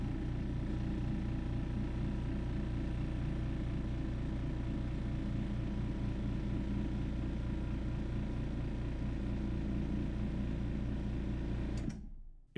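GAST beverage air compressor motor running: a steady, loud, low mechanical hum with rapid rhythmic pulsing that continues unchanged for about twelve seconds, then stops abruptly with a brief click.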